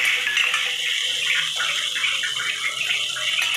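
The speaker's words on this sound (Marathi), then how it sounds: "गरम केलेलं पाणी थोडंसं टाकलं कारण मसाला जळू नये म्हणून." Hot water poured into frying masala for a black-bean curry, a continuous hissing splash and sizzle that runs unbroken from start to finish, close and fairly loud, with no voices.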